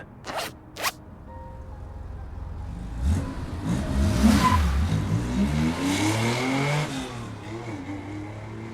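A car in the video game Love and Deepspace pulls away and revs up, the engine rising and falling in pitch as it accelerates, preceded by a couple of sharp clicks.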